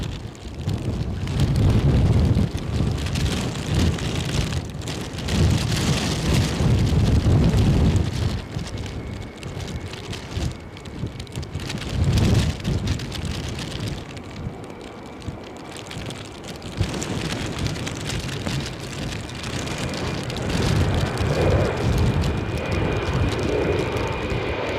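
Strong gusty wind, gusting over 50 mph at Edinburgh airport, buffets the microphone in a continuous roaring rush that swells and eases, with a distant aircraft engine drone mixed in.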